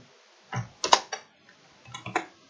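A few quick, irregular clusters of crisp clacks from a computer keyboard as text is typed into a spreadsheet, close and clear against near silence.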